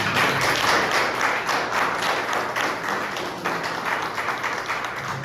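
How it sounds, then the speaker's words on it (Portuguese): A church congregation claps together in praise, a dense, steady wash of many hands that holds at an even level for several seconds with scattered sharper taps. "Aplauda o Senhor, glória a Deus."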